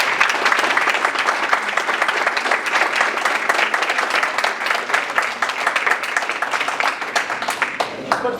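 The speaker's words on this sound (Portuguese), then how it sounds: "Nosso agradecimento, palmas para o professor." Audience at a baião and maracatu string-playing workshop applauding the teacher, a dense, steady round of clapping sustained at full volume throughout.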